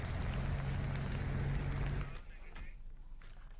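Heavy rain pours down in Rishikesh, Uttarakhand, with roads flooded. A dense, steady downpour roars close by, then eases to a quieter wash after about two seconds.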